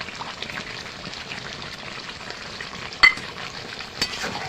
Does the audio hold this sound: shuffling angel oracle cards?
no